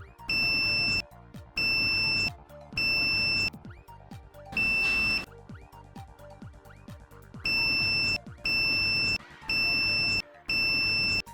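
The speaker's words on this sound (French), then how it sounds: "Ça bip sur les 6 points" A multimeter's continuity beeper sounds while its probes test an alternator's stator windings, which have a short-circuit fault. About eight loud, steady tonal beeps, each roughly a second long, are separated by short silences.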